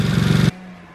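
A quad bike's engine runs with a light rattle, giving a loud, dense idle with a throbbing low pulse for half a second before it cuts abruptly to a faint residual hum.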